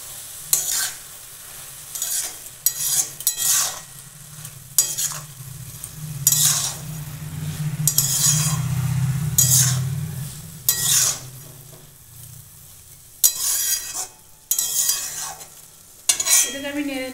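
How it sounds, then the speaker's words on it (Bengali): Spoon stirring chopped bottle gourd with salt and turmeric in a hot pan, repeated scraping and clinking strokes over a steady low sizzle, close up, no talk. "নুন হলুদ দিয়ে একটু নেড়ে নেবো।"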